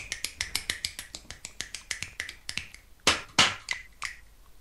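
Rapid finger snapping repeats in a steady rhythm, crisp and close, about twenty sharp clicks, with a couple of louder, noisier snaps near the end and no talking.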